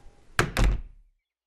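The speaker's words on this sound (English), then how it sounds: "and he closed the door" A room door swung shut indoors, giving two close, solid thuds in quick succession followed by a brief dying resonance and then silence.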